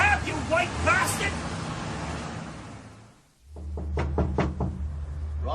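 Someone bangs on a door in a rapid burst of heavy, booming knocks, following a stretch of loud shouting voices and background noise.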